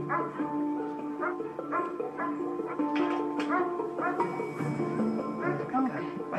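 A dog gives a run of short, high yips and barks, fairly close, mixed with a person talking and background music.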